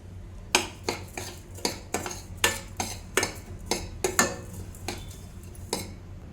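Vermicelli and semolina roasting in a pan while a metal spoon stirs them, making about a dozen sharp clinks and scrapes against the pan in an irregular rhythm, close and clear, with no voices.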